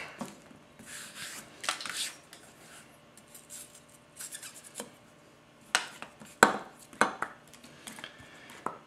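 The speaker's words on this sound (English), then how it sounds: "let's get to chopping as soon as we can get all the seeds off my board" A Tetsuhiro hammered White #1 240 mm gyuto knife chops on a cutting board in irregular bursts of quick taps, with soft scraping between strokes, close and fairly quiet.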